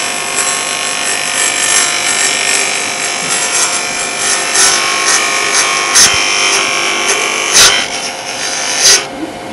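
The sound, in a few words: wood being cut with a turning tool, shavings coming off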